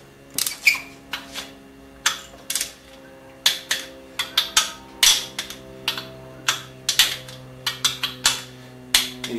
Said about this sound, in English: You turn this wrench until you hear it click